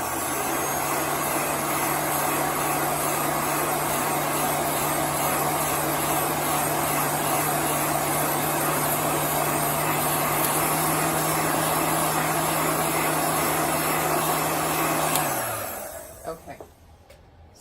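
A handheld dryer blows steadily on an erasable chalk art board, a loud continuous whirring hum with a steady motor tone that runs for about fifteen seconds, then winds down and stops.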